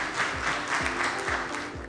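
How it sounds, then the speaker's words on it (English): Audience applause at a book launch ceremony in an Islamabad hotel ballroom, a steady, dense clapping from a sizeable crowd that fills the whole short stretch at moderate loudness, with no talk over it. "Big applause for him."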